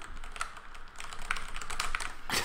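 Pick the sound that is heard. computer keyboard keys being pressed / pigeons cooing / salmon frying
computer keyboard keys being pressed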